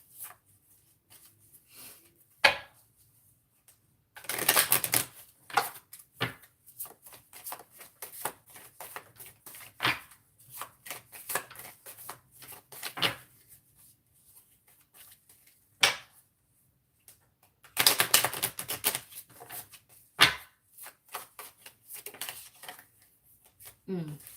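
Tarot cards riffled and shuffled in short bursts, with soft taps and flicks between louder runs of rapid fluttering.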